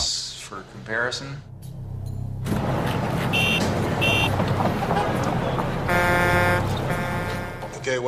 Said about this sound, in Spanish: Ahora el ruido de tráfico para compararlo.